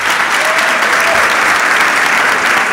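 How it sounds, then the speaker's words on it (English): Loud, dense applause from a seated audience at a women-in-STEM panel event, a continuous roar of clapping that holds steady for the whole stretch without anyone speaking. "Let's give a round of applause."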